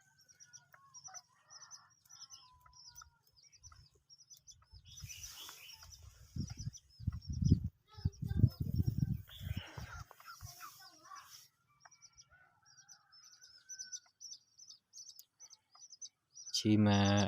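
Small pet birds chirp repeatedly through the scene, thin high calls scattered steadily in the background, with a denser burst of bird sounds and low rustling in the middle and a louder noise at the very end.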